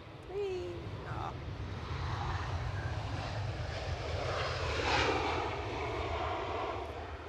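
A fixed-wing airliner landing at Edinburgh airport, a broad engine roar that swells and holds at moderate distance while people talk over it.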